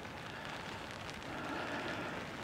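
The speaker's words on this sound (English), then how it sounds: "Rain is still coming down." Steady rain falls at night on the back streets of Blackpool's North Shore, a constant close hiss and patter of drops on hard surfaces.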